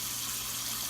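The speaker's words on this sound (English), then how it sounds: "Now you're gonna pour this water over it." Water pours steadily into a pot over a beef roast for pot roast, a continuous close gushing wash with no talking.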